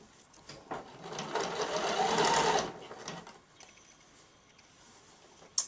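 Sewing machine stitching around the facing of a child's easy dress, a close rapid mechanical whirr building for about two seconds then stopping, with faint handling ticks before and after.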